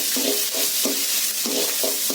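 Onions and curry leaves sautéing in a pan for a potato stir-fry, a steady broadband sizzle with rhythmic scraping strokes of a spatula about every half second, close and fairly loud, with no talking.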